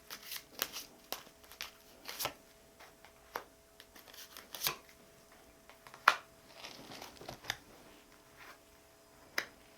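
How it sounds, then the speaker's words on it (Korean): Tarot cards being shuffled and drawn close up, with a string of sharp, crisp card flicks and snaps at irregular intervals over a quiet room background and no talking. "제가 2장의 카드 더 뽑아 볼게요"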